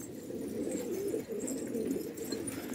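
A Sarı Urfalı pigeon coos softly in a loft, a low rolling burble repeated continuously and fairly close, with no voices over it.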